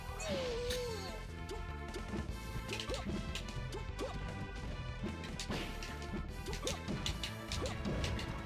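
Down smash attacks in a Super Smash Bros match: heavy impact crashes and thwacks over busy game music, with whooshing hits layered in, loud and continuous with no talking.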